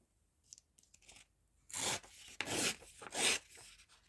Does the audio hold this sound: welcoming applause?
no